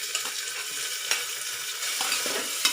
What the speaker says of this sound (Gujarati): ડુંગળીને આપણે થોડી વાર સાતરવા દઈશું